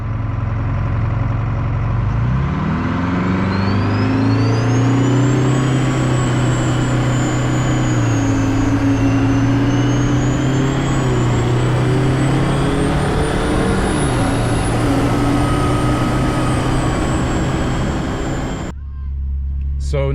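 A truck with a turbocharged Detroit 4-53T diesel engine accelerates hard, its loud, close engine note and turbo whine rising steadily in pitch for about eighteen seconds before cutting off abruptly.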